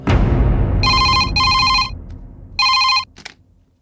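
A telephone bell rings in a Hindi-dubbed film scene, three loud electronic bursts with short gaps between them, followed by a faint click as it stops.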